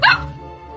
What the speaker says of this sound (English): I've always wanted a dog.